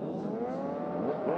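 Racing sidecars at the Assen Sidecar World Championship sprint race roar off the start line together, a dense, loud wall of revving engines building steadily with no voices.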